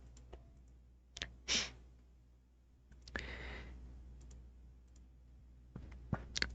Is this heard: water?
no